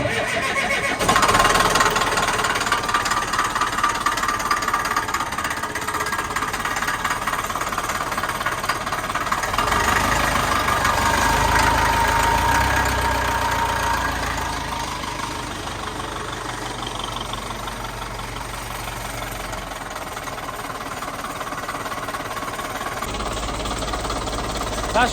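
A small diesel yard loader in the UK cranks and fires up, then settles into a steady, even idle that runs close and loud for the rest of the clip.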